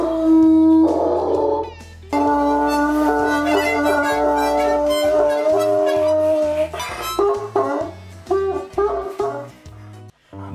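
A Bloodhound lets out long, tonal, drawn-out howls followed by a run of shorter, choppy barks and yelps, loud and close with no other sound behind them.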